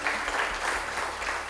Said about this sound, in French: Est-ce que vous pouvez applaudir Dickerson et David?